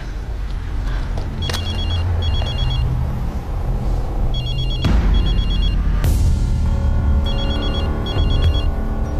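A telephone rings in repeated electronic trill bursts over a loud low rumble, with occasional sharp knocks, no speech.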